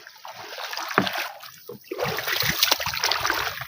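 Water poured out of a container on a small fishing boat after catching a lobster, a brief trickling splash near the start, then steadier dribbling and splashing with boat and water noise.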